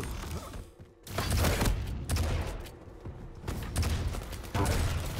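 Rockets fire in a competitive 2v2 team deathmatch shooter, heard as loud, rapid, overlapping blasts and bursts with mechanical rattling in between, continuing throughout.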